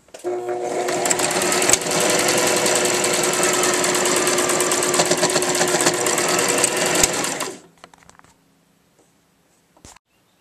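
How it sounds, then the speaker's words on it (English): A sewing machine stitches a skirt waistband casing closed with a loud, steady rapid whirring that runs for about seven seconds, then stops abruptly, leaving a few faint clicks. "And now we're just going to sew this little casing closed."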